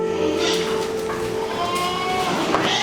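Goats at the NARC research farm give a loud, close bleat. A few fainter livestock calls follow in the background.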